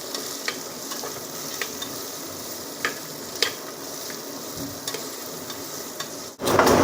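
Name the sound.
onions frying until golden brown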